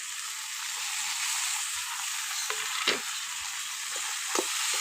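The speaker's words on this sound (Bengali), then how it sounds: "এখন আমি ঝিঙেটা দিয়ে দেবো।" Ridge gourd fries in a hot pan with a loud, steady hiss of sizzling oil, broken by a few soft knocks and scrapes of stirring.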